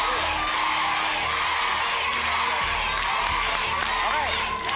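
A studio audience at a Filipino game show cheers and shouts in unison, a dense, loud, sustained roar of many voices lasting throughout.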